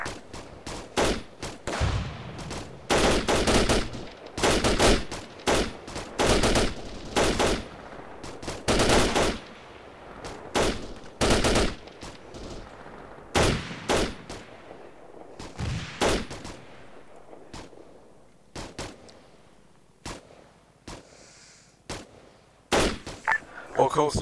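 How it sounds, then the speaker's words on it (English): Heavy gunfire in a military combat video game set in a Herrick-style operation, with rapid volleys, machine-gun bursts and single shots cracking loud and close, thinning out toward the end, with brief radio-style voices between. "Am I the only one returning fire?"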